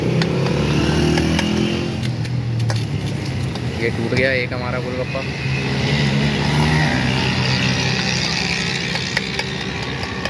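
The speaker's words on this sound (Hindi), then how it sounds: "शोर बहुत ज़्यादा है क्योंकि पीछे ट्रैफिक है।" Steady road traffic from a busy main road rumbles behind a street stall making gol gappay, with motorcycle and car engines droning and passing throughout while someone talks over it.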